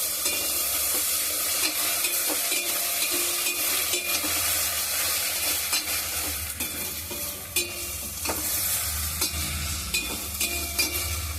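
Tomatoes sautéing in a pan with ginger and garlic, a steady loud sizzle and frying hiss with a spoon stirring and scraping throughout, no talking.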